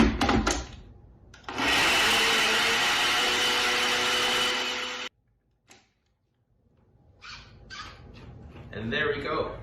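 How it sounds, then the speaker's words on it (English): A kitchen blender runs for about three seconds, chopping frozen berries, a banana and a cup of water into a smoothie, with a loud steady whir that stops abruptly, followed by quiet and soft handling noises. "Screw on the lid and we pop it in the blender."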